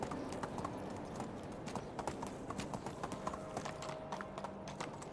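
A horse gallops in the medieval village game Medieval Dynasty, its hooves making a fast, steady clip-clop rhythm that carries evenly through the whole stretch without pause.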